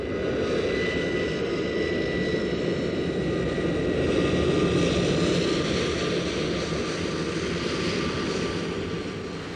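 An airplane takes off with a loud, continuous engine roar that swells toward the middle and then slowly fades, with no voices.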